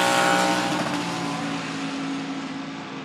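A 2020 GMC Sierra pickup with a 2.7-liter turbo four-cylinder on a quarter-mile drag strip, its engine roaring loudly and steadily close by, easing slightly after a strong start, with no voices.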